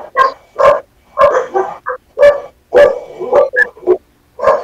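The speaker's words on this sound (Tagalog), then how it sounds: "Ang ingay ng aso." A dog barks loudly and repeatedly up close, in a quick uneven series of sharp woofs with brief pauses between them.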